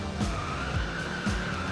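A car in the BeamNG driving game skids under handbrake, with tires squealing in repeated swoops over a steady engine drone.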